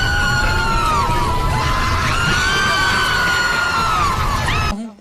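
A recording presented as countless souls screaming in torment in terrible heat beneath the earth: a dense, continuous mass of overlapping wailing and shrieking voices, loud and sustained before cutting off abruptly at the end.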